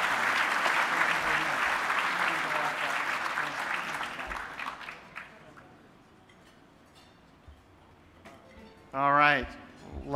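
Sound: audience applause at an award dinner

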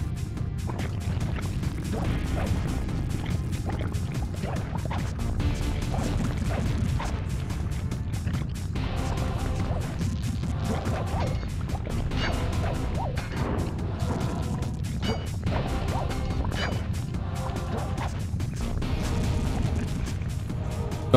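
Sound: gears smashed with a cane in the Sly Cooper video game

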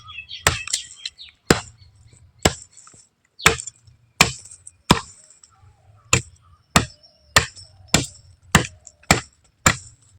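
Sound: cutting the base of a broken moringa branch

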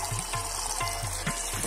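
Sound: water running from a tap

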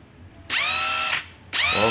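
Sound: Makita DTW1001 cordless impact wrench running

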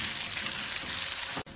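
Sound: onions frying in oil

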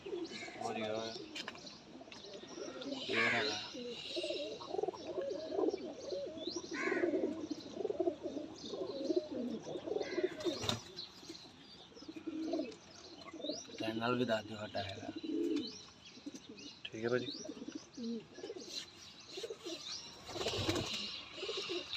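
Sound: pigeons cooing

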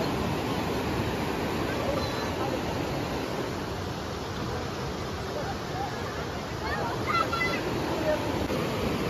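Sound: rushing floodwater of a swollen stream

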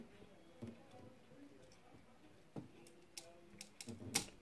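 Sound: cracking open a flame tree seed pod with scissors

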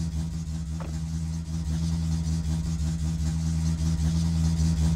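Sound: car engine running loudly with wrong exhaust, video game My Summer Car

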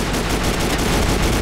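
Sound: gunshots in the Ace of Spades video game

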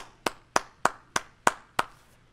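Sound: round of applause at graduation ceremony

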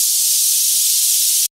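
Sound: white noise effect with volume and pitch automation

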